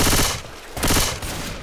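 Automatic gunfire in the video game Left 4 Dead, loud dense bursts of rapid shots with a brief lull between volleys, close and harsh, with no talking.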